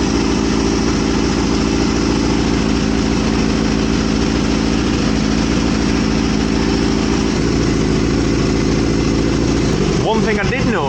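A Kawasaki Z650 motorcycle engine idles steadily and loudly with a low rhythmic rumble at a raised idle, a voice briefly speaking near the end.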